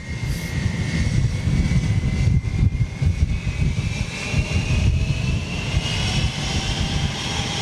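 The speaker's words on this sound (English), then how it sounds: "Wow, it's quite smoky for a new aircraft." A new jet aircraft climbs after takeoff, leaving a smoky trail, its engines roaring loudly and steadily with a slowly rising whine as it heads up toward the cloud base.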